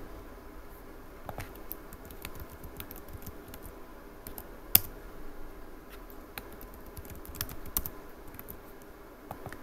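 Steady, fairly quiet typing on a computer keyboard, with scattered light key clicks and no talking.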